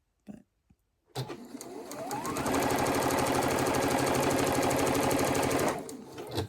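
A sewing machine stitches quilt block pieces for a sawtooth star quilt, running steadily and close for several seconds with a fast, even mechanical rhythm, bracketed by a few small clicks before and after.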